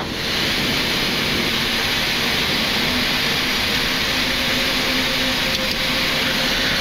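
Engines of a Flair Boeing 737 MAX on the takeoff roll make a loud, steady roaring wash, with a thin high whine held throughout.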